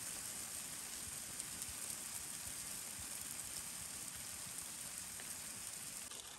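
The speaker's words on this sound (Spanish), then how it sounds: "Miren, acá está nevando, granizando." Snow and hail falling during a storm in Cotopaxi National Park make a soft, constant hiss of fine pellets, steady and fairly faint with no talking.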